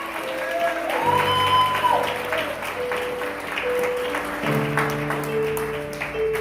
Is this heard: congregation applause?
yes